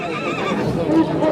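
A horse at a Nookat horse market gives a loud, close, quavering neigh that rises and wavers, with faint crowd voices and hoof clops around it.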